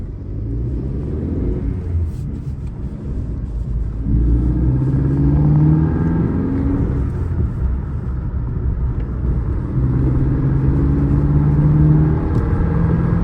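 Chevy Sonic engine fitted with a cheap cold air intake, revving up twice in rising surges with an intake whoosh over a steady idle rumble, close and loud.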